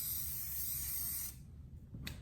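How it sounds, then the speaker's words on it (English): Davines dry texturizing hair spray released in one continuous close hiss lasting over a second, then stopping, followed by a brief second short puff after a pause. "I'm just gonna spray a little Davines dry texturizing spray."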